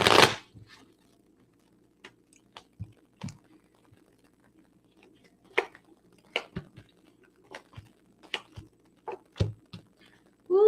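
A deck of tarot cards is shuffled and handled in a quiet room, giving sparse, irregular papery riffles and soft slaps that come in short bursts with silent gaps between them.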